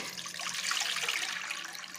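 About half a litre of water pours steadily into a container for pizza dough, a continuous bright splashing stream with no talk over it.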